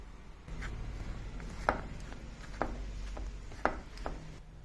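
Rice flour dough is pressed and kneaded firmly by hand, making quiet rubbing and soft, scattered slapping knocks against a low background hum.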